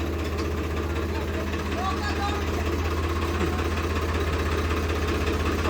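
An 855 tractor engine idles with a steady low chugging rumble throughout, close and continuous, with faint voices in the background.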